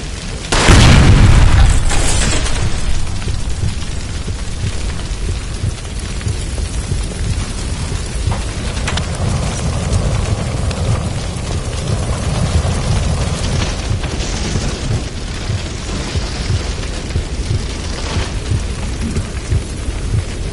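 A gas line blows up in the video game LA Noire: a loud, deep boom bursts at the start, followed by a long rumbling roar of fire and debris that stays steady and dense for the rest of the stretch.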